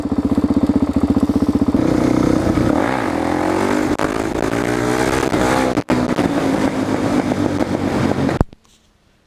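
A Suzuki DR-Z400 dirt bike engine roars close by, pulling hard and steady through third gear with a brief dip midway, then cuts out abruptly.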